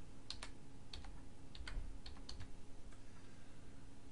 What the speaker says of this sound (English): Move your mouse over, click start, type in store,